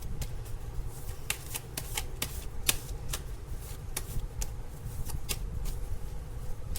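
Tarot cards are shuffled in quick, crisp bursts of riffling clicks and flicks, irregular in rhythm, close and fairly quiet over a low steady background hum, with no talking.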